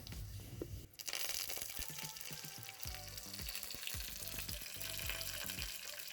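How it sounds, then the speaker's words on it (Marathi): Curry leaves and green chillies dropped into hot tempering oil for a raw-mango kadhi: a sharp burst of sizzling, then an ongoing crackle of pops and spits, close by. "कढीपत्ता आणि मिरची याची फोडणी देणार आहोत मिरची टाकूया पत्ता टाकूया"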